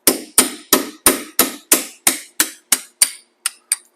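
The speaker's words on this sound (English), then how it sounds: "I'm just going to take just a little punch, and we're going to tap it straight on through" A small metal punch struck repeatedly with a hammer to drive a seized speed sensor out of the rear steering knuckle of a 2015 Ford Explorer: about a dozen sharp, close metallic taps in a steady rhythm, spacing out slightly near the end.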